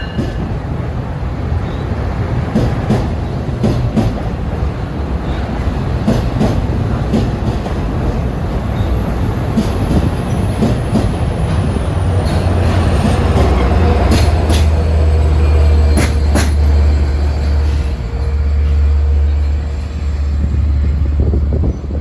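An equipment train rumbles steadily past for a long stretch, with a low drone, rattling wheel clatter and occasional sharp metallic clicks, loud and continuous.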